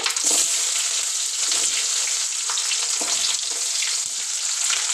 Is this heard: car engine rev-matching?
no